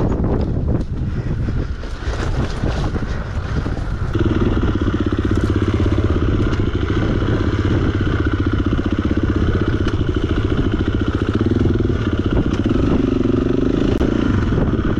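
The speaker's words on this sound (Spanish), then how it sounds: "Uy, y se entierra feo la moto." An enduro motorcycle engine drones and revs hard while bogged down on a ruined dirt trail, a loud, sustained buzz with rattling clatter and heavy wind buffeting.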